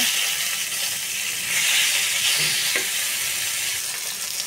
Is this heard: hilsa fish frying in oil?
yes